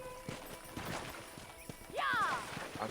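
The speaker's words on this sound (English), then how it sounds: "That ranch hand said there's a pack of wild horses nearby." Hoofbeats of horses in Red Dead Redemption on PS3, near a herd of wild horses, with a clear whinny around the two-second mark. The hooves clip-clop rhythmically under faint in-game chatter and ambience.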